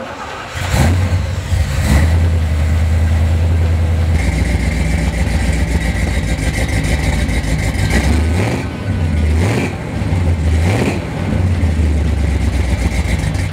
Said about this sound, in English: Let's hear the rumble of big block power.